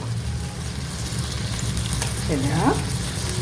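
Washed rice frying in ghee with green chillies in a pan, a steady close sizzle with stirring scrapes running under it throughout.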